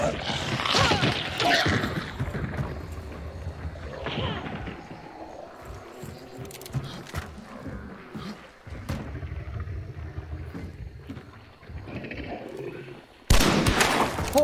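Gunfire in a first-person shooter video game, with bursts of sharp shots and rapid volleys scattered across the stretch, some loud and close, others distant, ending in a sudden loud burst.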